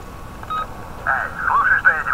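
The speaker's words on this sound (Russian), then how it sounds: "Опять смс-чика." In the game Need for Speed Most Wanted, a short electronic text-message notification tone beeps, then a voice starts with phone-like filtering.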